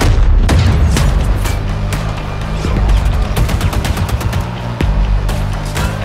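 Combat in Ghost Recon Breakpoint: loud, dense gunfire bursts with rapid shots and heavy booming grenade explosions pound continuously over a rumbling battle background.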